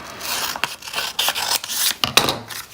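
Scissors snip through paper for a butterfly pop-up card, a series of short, crisp cuts and scrapes at an uneven pace, close by and clear.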